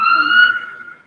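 An ambulance siren holds a steady, high wailing tone that stays loud for about half a second, then fades away.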